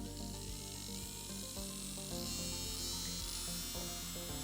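A steady, fairly quiet whirring electric nail drill runs continuously with soft grinding contact sounds as it sands off gel nail polish, no talking.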